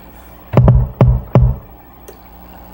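Three deep, punchy low kick drum sample hits thump close and loud, a quick pair followed by a single, with a faint tick near the end.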